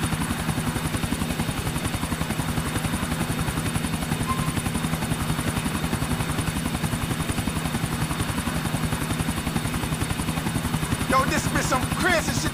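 A helicopter flying in a Grand Theft Auto game, a steady loud rotor thump and engine whine throughout, with brief bursts of other noise near the end.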